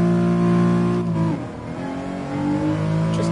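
A race car in Gran Turismo Sport accelerates steadily toward top speed, its engine a loud, continuous rising drone with a brief dip and shift midway before climbing again, close and alone with no talk.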